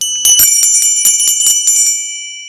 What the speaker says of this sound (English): It's only 2 Sleighs bells